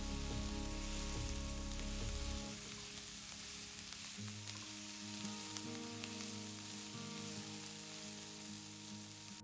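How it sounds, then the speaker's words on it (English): A spatula stirs a teaspoon of Tuscan seasoning through a sizzling pan for a chicken dish with creamy mushroom sauce, giving a steady close frying hiss with scraping strokes, along with a low hum that drops away partway through. "A teaspoon of Tuscan seasoning goes into the pan, and the spatula stirs it through."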